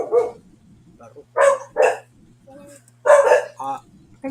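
Several pet dogs bark in sharp, irregular bursts indoors, loud and close, with a steady low hum underneath.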